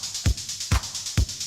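A modular synth plays its patch with the compressor switched off: three punchy low thumps spaced roughly half a second apart over a bright, pulsing hiss, close and fairly quiet.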